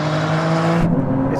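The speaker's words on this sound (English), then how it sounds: "Too much wheel spin as well." Loud, close engine roar of a tuned Porsche in a drag race with wheel spin, a sustained high-revving drone that shifts pitch sharply near the end as the car pulls away.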